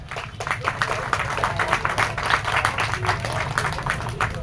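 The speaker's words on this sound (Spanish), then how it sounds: "Recibimos con fuertes palmas nuevamente e iniciamos la presentación." An audience at a book presentation claps steadily and densely for several seconds, a continuous patter of many hands filling the room to welcome the speakers.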